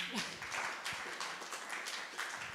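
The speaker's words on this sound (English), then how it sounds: "A round of applause, ladies and gentlemen." A crowd of people gives a round of applause at an event, with bursts of clapping rising and falling over about two and a half seconds, faint and somewhat distant.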